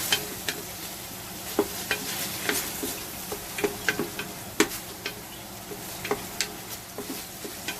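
Curry ingredients sautéing in a pan for Singapore curry chicken, with a steady close sizzle under regular sharp ticks of a spoon scraping and tapping the pan every half second or so.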